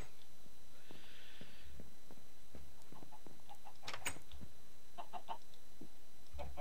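Chickens clucking in the Minecraft video game, a few short, soft clucks and pecking sounds scattered across a quiet background with no talking.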